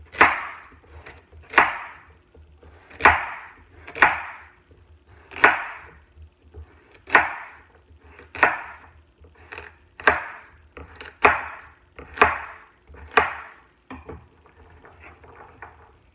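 Carrots being sliced with a dull knife on a cutting board for homemade chicken soup, about fifteen sharp, separate chops in an uneven rhythm, close and clear with no talking.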